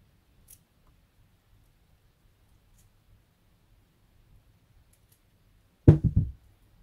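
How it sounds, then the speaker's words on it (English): Scissors snipping beading thread close to a bead while making beaded Halloween earrings: a single short cluster of crisp clicks after a long near-silent stretch. "here I'm gonna cut the thread. Make sure to cut as close to the bead as possible"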